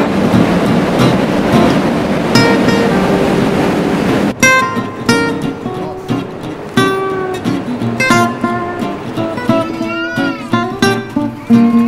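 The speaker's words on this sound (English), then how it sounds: "now the train is coming in" A train pulls in loudly, a rumbling roar giving way to squealing brakes and rhythmic clattering wheels as it slows nearby.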